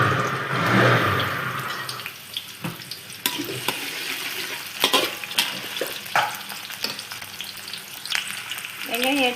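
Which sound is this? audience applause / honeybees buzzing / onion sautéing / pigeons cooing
onion sautéing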